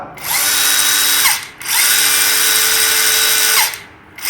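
A power grinder whines up to a high, steady scream, cuts off, then spins up again for a longer run before winding down; two bursts, close and loud.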